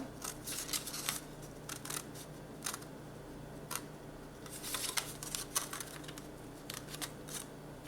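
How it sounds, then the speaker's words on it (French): Paper is cut along a straight line with scissors for a scrapbook album, a series of crisp close snips and slicing strokes in irregular bursts over a quiet background. "ici, je vais couper sur ma ligne"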